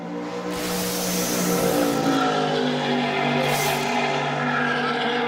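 A McLaren 765 launches down a drag strip at an exhibition pass, its engine note rising to a loud, sustained roar close by. Crowd and track ambience blend in beneath it, with no talking.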